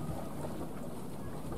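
A Ninh Thuan buying boat runs up alongside a large Ben Tre trawler at sea, its low engine rumble and water noise steady and muffled under heavy wind buffeting on the microphone.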